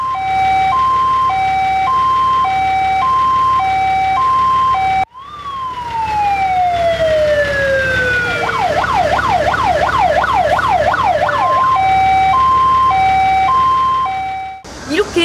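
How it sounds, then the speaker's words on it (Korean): Several Korean emergency siren patterns in a row, including a fast, rapidly alternating ambulance siren warble, loud and close with no talking during it. "네, 맞습니다. 병원 소리죠."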